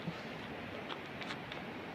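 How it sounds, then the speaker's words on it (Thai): Water from melting ice pours down a mountainside waterfall in Norway, a steady broadband rush that fills the scene without a break, with a few faint higher splashes and no voices. "ได้ยินเสียงน้ำตก"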